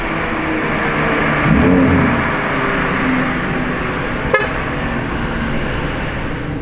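A Lamborghini Revuelto supercar rolls in with a loud, steady engine roar that swells briefly and then settles into a constant drone, with a short sharp click partway through.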